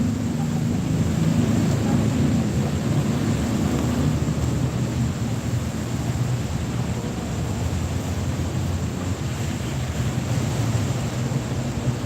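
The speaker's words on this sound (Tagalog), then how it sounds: "Maulan tayo ngayon" Rain falls on a rainy morning outside a school as students arrive, a dense, unbroken hiss with a low rumble underneath that holds steady throughout and no voices.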